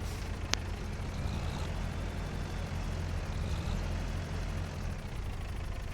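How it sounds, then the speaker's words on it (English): Tractor engine in Farming Simulator 25 running steadily with a low, continuous rumble that holds at an even level throughout, plus one brief sharp click near the start. "And this tractor just sounds nice."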